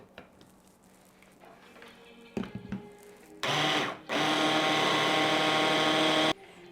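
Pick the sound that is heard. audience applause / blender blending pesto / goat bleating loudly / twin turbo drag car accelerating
blender blending pesto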